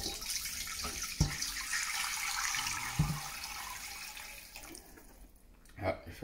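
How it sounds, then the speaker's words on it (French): Two litres of water pour steadily into a cast-iron cocotte holding pork belly for pistou soup, a continuous splashing hiss with a couple of soft knocks, trailing off into quieter clinks at the end. "Je vais y rajouter 2 litres d'eau."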